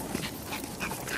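Several dogs let loose indoors give short whimpers and yips, close and moderately loud, in a brief burst with no talking.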